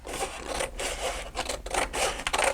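Steady rasping and scraping as excess material is trimmed from a handmade DIY book box, with repeated back-and-forth strokes that are close and fairly loud, broken by brief pauses.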